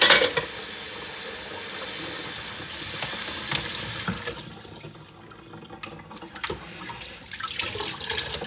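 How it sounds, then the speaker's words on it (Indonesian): Dishes being washed under a running kitchen tap at home, a steady rush of water with occasional clinks and splashes, loud and close with no talking. "Mencuci piring."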